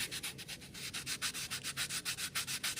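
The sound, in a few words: sanding a fishing lure with 120 grit sandpaper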